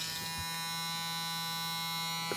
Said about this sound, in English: Let's go ahead and turn this thing on for y'all so y'all can hear it.